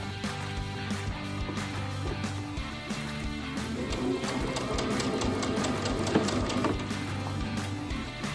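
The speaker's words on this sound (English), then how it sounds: "You're going to want to sew right on that line." A sewing machine stitching quilt fabric runs in a continuous, steady mechanical whir with a rapid repetitive needle clatter, close up and alone throughout.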